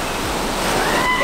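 Sea waves on the beach in Barcelona, a close, loud, continuous rush of surf and churning water, slightly rising, with no speech.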